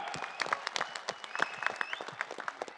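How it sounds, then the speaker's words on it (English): Audience applause breaks out at a combat-sports talk show, a steady patter of clapping with sharp individual claps standing out, moderately loud and without speech over it. "Round of applause for this guy."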